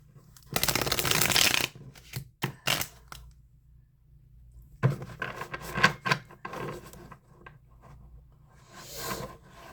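A deck of cards being shuffled up close, a dense riffling burst followed by several quick snaps and softer rustling handling of the cards.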